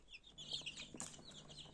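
Young chicks peeping in a coop, with soft, high, overlapping chirps that go on steadily at close range.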